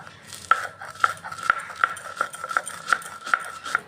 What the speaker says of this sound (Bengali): এবার আমি একটু বেটে নিচ্ছি সর্ষেটা